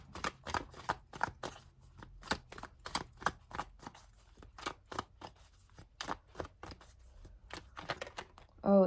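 Tarot cards are shuffled close by in a long run of crisp, uneven flicks and slaps, with a brief louder rustle at the very end.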